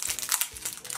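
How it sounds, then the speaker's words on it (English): Crinkly plastic wrapper being peeled off a contour highlight makeup stick, a second of close, quick rustling and crackling. "It's still in its like wrapper, so I'm gonna unwrap it on camera."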